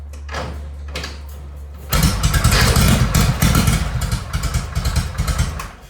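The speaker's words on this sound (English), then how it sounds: "This is the definition of a one-kick only motorcycle." A 1971 Harley-Davidson FLHP police motorcycle engine catches on a single kick at about two seconds, then runs with a loud, uneven idle and mechanical clatter close by.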